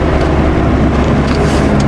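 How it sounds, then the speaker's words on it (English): Renault Clio 172 hot hatch accelerating hard, its engine induction roar a loud, steady broadband drone with low rumble and a rasping upper edge, continuous through the short burst with no talking. "And that induction noise,"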